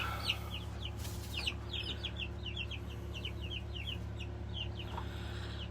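Quiet chirps and clucks repeat steadily from a flock of turkeys and chickens in a chicken tractor, faint and close, layered over a continuous low hum.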